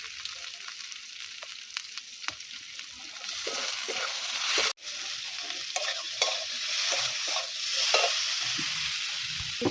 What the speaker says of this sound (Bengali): ভালো করে কষি হবে তরকারিটা ভালো করে কষি